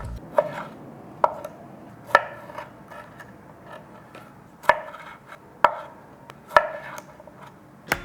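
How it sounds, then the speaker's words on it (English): A knife chopping smoked jalapeno sausage on a cutting board while making pizza, seven or eight distinct close thuds spaced irregularly about a second apart over quiet room tone, no talking. "So I'm just gonna chop some up"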